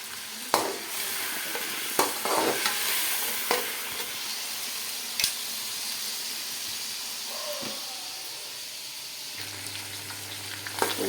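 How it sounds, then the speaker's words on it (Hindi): Ginger-garlic paste fries in hot oil with chicken for degi biryani, a steady bright sizzle broken by sharp clattering stirs and scrapes of a spoon, close and fairly quiet. "यहाँ बिस्मिल्लाह करके लहसुन का पेस्ट इसमें डाल देते हैं"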